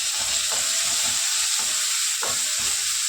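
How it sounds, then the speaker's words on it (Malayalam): Curry leaves frying in hot oil in a pan with ginger and garlic, giving a steady close sizzle with faint stirring clicks throughout. "കറുവേപ്പില ഇട്ട് കൊടുക്കാം."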